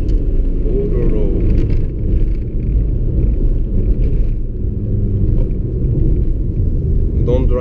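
Remapped Audi A3 1.9 TDI 8L diesel, tuned from 90 to about 155 hp, at full throttle on an extra-urban road, a loud, heavy continuous engine rumble and roar heard close from inside the car.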